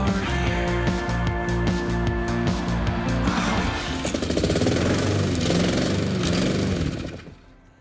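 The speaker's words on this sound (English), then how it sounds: "Lawnmower needs petrol before you start using it, just so you know." A petrol lawn mower engine drones loud and close with a rough, steady mechanical rumble, rising slightly partway through before fading at the end.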